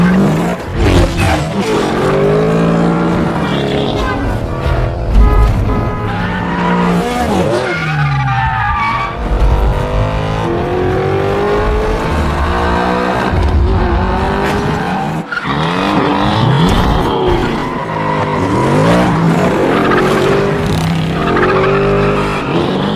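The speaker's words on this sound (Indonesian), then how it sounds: "Toby yang menggunakan mobil Ford Grand Torino 1969 itu gaspol dengan sangat tangguh." A 1969 Ford Gran Torino races at full throttle in Need for Speed, its loud engine revving and shifting up and down continuously, with repeated tire squeals and skids throughout a long, close, intense run.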